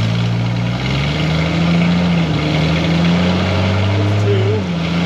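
A Jeep XJ 4x4 with a 4.0 L inline-six, damaged drivetrain and no rear brakes, runs loud and close with a deep engine drone that rises and shifts in pitch as it is given gas, and voices speak over it.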